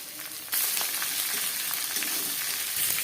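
Beans, carrots, capsicum, raisins and cashews hit hot oil spiced with bay leaf, cardamom, cloves and cinnamon for fried rice; a sudden loud hiss rises after a brief quieter moment, then a constant close sizzle with light stirring scrapes.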